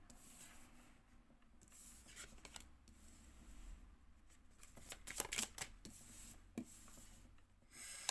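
Tarot cards are shuffled and rubbed together in a quiet room, making faint, soft, uneven papery swishes and scrapes that come in short bursts, with a few sharper flicks near the middle.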